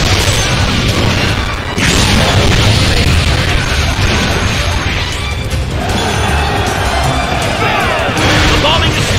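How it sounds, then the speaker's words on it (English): Ship cannon bombardment in the Sengoku Basara: Samurai Heroes video game, with continuous dense crashing booms and blasts lasting throughout, loud and close, with game voices over the barrage. "They're bombing us! At this rate, they'll sink the ship!"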